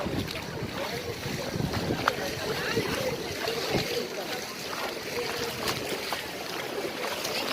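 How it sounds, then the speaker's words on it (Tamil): Floodwater rushing down a street in the northern part of Thoothukudi, a steady broadband roar of flowing water mixed with wind buffeting on the microphone, with people talking in the background. "வடக்கு தெருவிலிருந்து தண்ணீர் வந்து கொண்டு இருக்கிறது"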